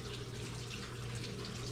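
Water runs steadily in a small museum display depicting Native Americans spearing salmon in a creek, a continuous trickling wash that fills the whole short stretch without any voices.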